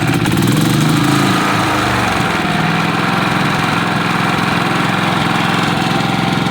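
A Westinghouse iGen 4500df dual-fuel generator engine runs loud and close after a choke start, a steady chugging drone with an initial rough surge settling into an even idle; no talking.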